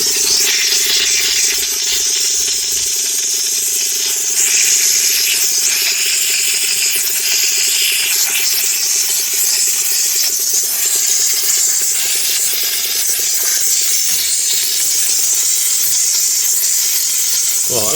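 A cheap Temu engine steam cleaner runs continuously with a loud, hissing, rasping output while an engine is scrubbed, the harsh steady noise broken by occasional scraping and rubbing.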